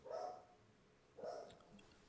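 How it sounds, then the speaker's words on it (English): A female dog barks twice in the background of a quiet indoor conversation, two short muffled bursts about a second apart, faint and somewhat distant. "She's barking at nothing."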